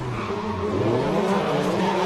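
A drift car slides through the course at Okuibuki, its engine droning loudly while tires squeal and skid continuously, with wavering pitch as the car floats sideways.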